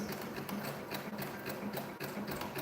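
A sewing machine stitches a fabric surgical mask with a rapid, steady mechanical rattle and rhythmic needle pulses, close and continuous, briefly pausing near the end.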